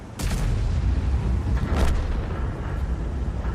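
A tank shell striking a T10 tank just behind the turret in a tank video game, played as a deep booming impact with a second blast burst midway through a sustained low rumble.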